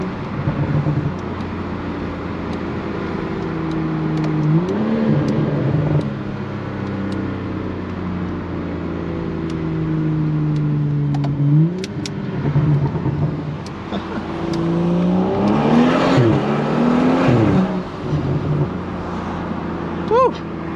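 BMW 435i M-Sport with an Akrapovic exhaust, its engine droning loud and close from inside the car, rising in revs and snapping through several downshifts with sharp blips near the end.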